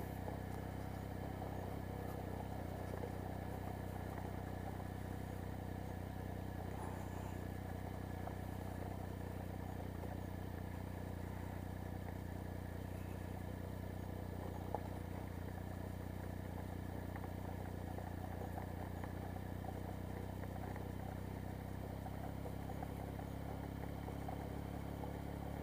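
A sport motorcycle rolls along a gravel road with a steady, muted engine drone and constant low rumble, with faint crunching and clatter from the loose surface throughout, no talking.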